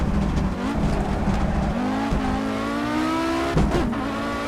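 Audi Sport Quattro in a racing video game, its engine droning steadily with pitch shifts as the throttle changes, while tires squeal and slide through a drifting corner, loud and continuous.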